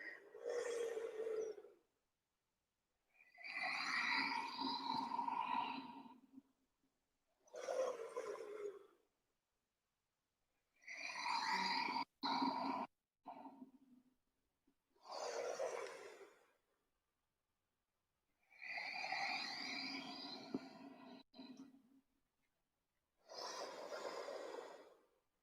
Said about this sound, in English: Steady breaths in through the nose and out through the nose.